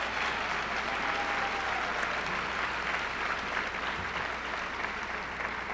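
Audience applause at a university president's opening day address, a dense steady wash of many hands clapping that continues for the whole stretch without pause, moderately loud and filling the room.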